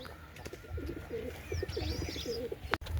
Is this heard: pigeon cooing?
yes